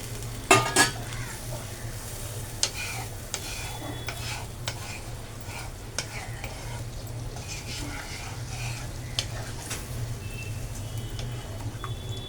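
Fish roe curry with fried potato and water simmering in a pan, a low steady bubbling sizzle with scattered spoon clinks and scrapes against the metal, a couple of louder knocks near the start.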